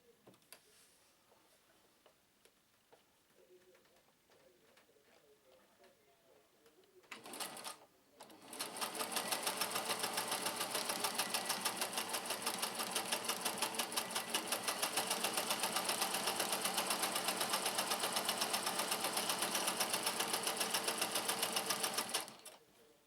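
A vintage Singer 431G sewing machine starts after a quiet stretch and stitches steadily and loudly at a fast, even mechanical rhythm for about fifteen seconds before stopping.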